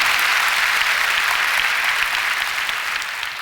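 A church prayer-meeting congregation gives a long, steady burst of applause, a dense, even wash of many hands that stays loud and gradually eases toward the end.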